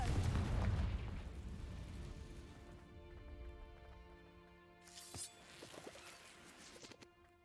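A Confringo blasting spell from Hogwarts Legacy erupts in a loud, heavy boom that rumbles and fades over several seconds, then sharp crackling bursts and debris sounds follow.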